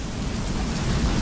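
Heavy rain and hail pound down outdoors on a wheat farm, a dense, loud, unbroken hiss and clatter filling the whole moment with no voices.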